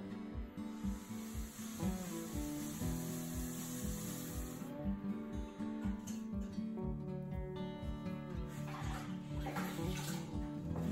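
Running water splashes and sprays steadily close by as a pottery wheel is rinsed, with a rhythmic low thumping underneath and a faint hiss throughout.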